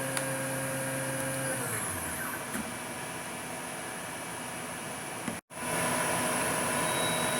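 A Star SR20J Swiss-type lathe's sub spindle winds down from 9,000 RPM, its high tonal whine falling in pitch over the first few seconds before a steady machine hiss, then a brief cut-out and the hum resuming.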